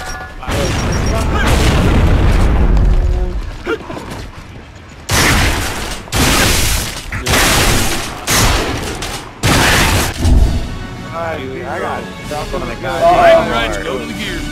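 Frag grenade explosions in the video game Gears of War go off as a string of loud, sharp booms, several in quick succession, while players talk excitedly over the action.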